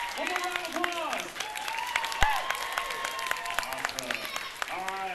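An audience at a furry convention's fursuit dance competition claps for a finished routine, moderate applause under a steady backdrop of music and voices, with one sharp loud clap near the middle.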